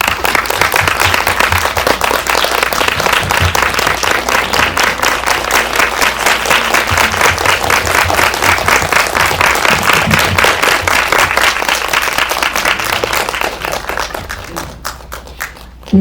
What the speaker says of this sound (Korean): 들어오시면 큰 박수 부탁드릴게요.